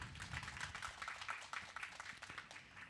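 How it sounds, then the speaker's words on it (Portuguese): Scattered applause from an audience at a commemorative literary academy anniversary panel, a soft, dense patter of hand claps heard at a distance with faint voices mixed in. "Palmas para ela."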